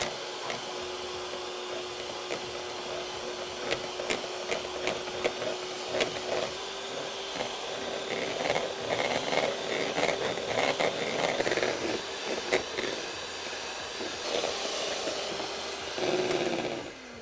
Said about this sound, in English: the final step is to beat our egg whites until they are at stiff peaks